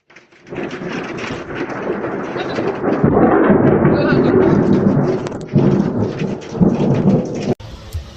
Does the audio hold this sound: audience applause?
no